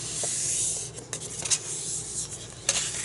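Scrapbooking paper being folded at a crafting table: soft rustles and a few brief scraping creases, quiet and close, with no voices.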